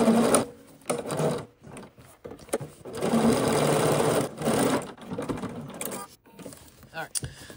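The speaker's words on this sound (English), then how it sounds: "I'm literally just stitching like right through the serging line here" A sewing machine stitches right along the serging line on a pair of Vinton pants, running loud and close in bursts of steady mechanical whirring broken by brief pauses.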